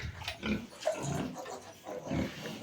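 Piglets and sows on a pig farm near Kolomyia give several short, low grunts in quick irregular bursts, fairly close but soft, with no talking.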